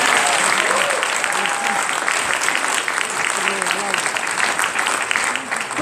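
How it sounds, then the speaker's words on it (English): Steady, loud applause from an indoor audience at a Delaware Secretary of State swearing-in ceremony, sustained clapping filling the room throughout with no break. "So please give them a huge round of applause."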